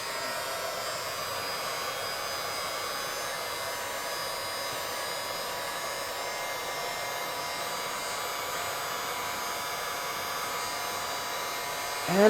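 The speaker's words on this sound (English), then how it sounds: "Get your heat gun." A heat gun blows hot air onto a crimp connector while wiring a Toyota Celica TA22, producing a constant, moderately faint whooshing hum with a slight electrical whine, unbroken for the whole stretch.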